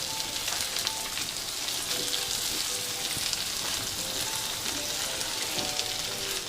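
Small capsicum and mixed vegetables sizzle steadily in a hot pan for white sauce pasta, a continuous close frying hiss with faint crackles and no talk.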